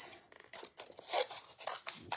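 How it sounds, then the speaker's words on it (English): Scissors snipping through card, a quick series of close, crisp cuts and crunchy rustles in a quiet room, with no talking. "Okay, I'm going to take my scissors"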